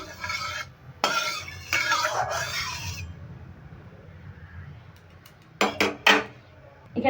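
Hot oil shifted into a kadai while cooking a Bengali mourala fish paturi: clattering metal scrapes and clinks of pot and utensil come in bursts near the start, then a quiet stretch before a few sharp, close knocks at the end.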